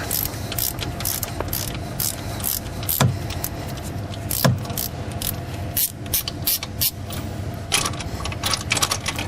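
A wrench ratchets a sleeve puller out of a 6.0 Powerstroke diesel injector bore, giving loud, close, continuous clicking of the pawl in quick repeated strokes.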